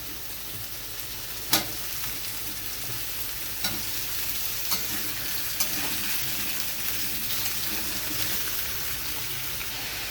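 Chopped ridge gourd and lightly fried potato sizzling in a pan, a steady soft crackle with occasional sharp clatters of stirring, alone and moderately quiet.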